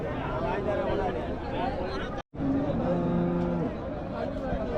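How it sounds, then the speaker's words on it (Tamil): Cattle low at the Wednesday livestock market in Namakkal, with drawn-out moos rising over steady crowd chatter and people talking nearby. "இந்த காலை கொண்டாந்து இருக்கிறீங்க. இது சிந்து மாடுங்களா?"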